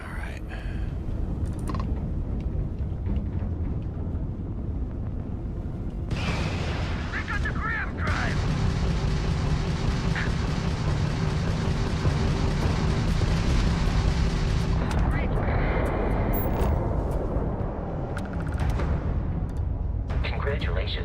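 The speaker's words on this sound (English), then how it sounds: "Press Y to fire a missile." Missiles and ballistic weapons fire during a starship battle in a video game, heavy booming blasts and a sustained roaring barrage that swells in the middle, with brief speech-like sounds early on.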